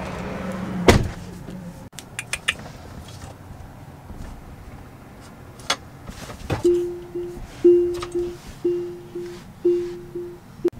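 A car door on a 2022 Tesla Model 3 Performance opens and shuts close by with a few sharp clunks. A series of short, rising electric whirs and thumps follows, with no talking.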